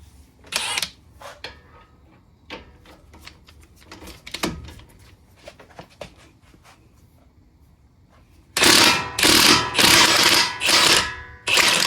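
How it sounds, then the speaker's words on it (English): Impact wrench loosening a nut on a 2006 Honda Pilot 4WD strut during a passenger-side CV axle job, loud buzzing bursts near the end after quieter clicks and handling noises. "I'm gonna see if I can just use impact to spin it off from this side."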